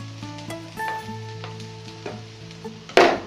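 Bitter melon for pickle cooks in gingelly sesame oil, giving a low sizzle under faint tonal hums with light scattered taps, then a sharp loud clatter near the end; no one speaks.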